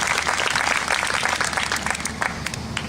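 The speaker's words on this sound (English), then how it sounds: "Give them a round of applause, because these things don't happen without a lot of work." Crowd applause at a conservative political rally, a dense, steady wash of many hands clapping that holds loud and even for the whole stretch with no voices on top.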